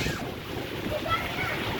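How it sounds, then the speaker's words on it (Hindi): Heavy rain falls in Pakistan, a steady, dense rushing wash heard close, with broad noisy hiss throughout and no clear breaks. "बहुत बारिश हो रही है।"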